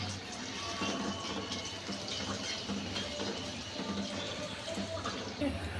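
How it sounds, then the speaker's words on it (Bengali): Hot water is poured into a pan of fried pointed gourd and loitta fish for a curry, a steady splashing, gurgling pour lasting several seconds at moderate loudness. "তো স্বাদ অনুযায়ী আমি একসাথে পানিটা দিয়ে দিচ্ছি"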